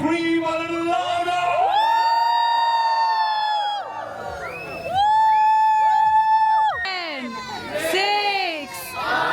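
A wedding crowd of friends and family screams, whoops and cheers loudly, with excited high-pitched shouts rising and falling in waves throughout.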